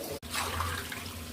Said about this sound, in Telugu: వాటర్ వేసేసుకున్నాము